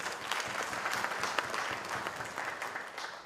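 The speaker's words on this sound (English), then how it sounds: "let's hear a round of applause for you" Conference audience applauding after a vote of thanks at a Bangalore event, steady dense clapping from a crowd throughout, fairly distant and even with no talk over it.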